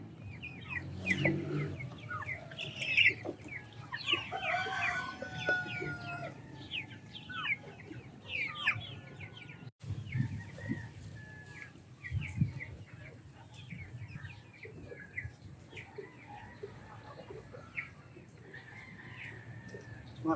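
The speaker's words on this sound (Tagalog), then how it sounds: "Pwede mong dalhin sa madamong lugar para kumain ng damo ang mga alagang sisiw" Chicks and chickens in a low-cost chicken tractor on grassy ground, clucking and peeping in frequent short calls at moderate distance, with occasional rooster-like cries over a quiet outdoor background.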